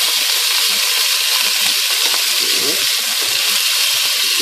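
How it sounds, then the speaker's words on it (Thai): Ground pork frying in a pan, its steady broadband sizzle filling the whole stretch with faint low crackles and no speech over it. "รอให้หมูสุกมันจะเป็นก้อนๆหน่อยนะครับหมูที่ดีมันบดแล้วแต่มันก็ยังติดกัน"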